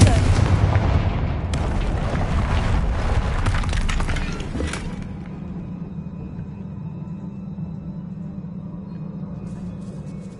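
The Confringo spell in Hogwarts Legacy sets off booming explosions with a rumbling roar that fades after about five seconds into a low steady drone.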